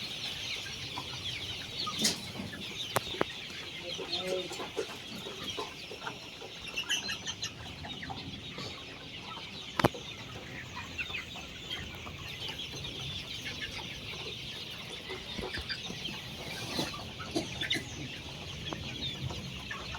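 Sonali hybrid chickens on a farm cluck and call softly throughout, with scattered faint clucks and occasional wing flaps under a steady hissing background.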